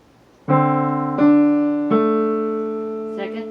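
Piano, both hands playing one measure of a song: three clear struck notes or chords in a slow short-long rhythm, each ringing out and fading, followed by a brief softer sound at the end.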